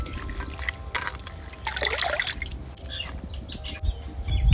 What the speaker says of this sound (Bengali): শাকটা ভালো করে জল দিয়ে ধুয়ে নেব।